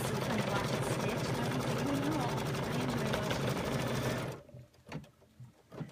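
An embroidery machine stitches a chenille Kimberbell pineapple design in a small 4x4 hoop. Its rapid, steady needle chatter runs close and loud with voices over it, then stops abruptly, leaving a few soft bumps.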